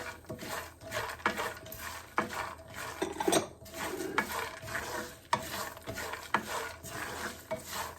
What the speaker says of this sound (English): And now mix it all together.